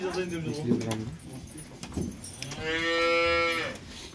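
Cattle moo loudly during blood sampling and vaccination, one long drawn-out call standing out near the end, while people talk nearby and keys jangle.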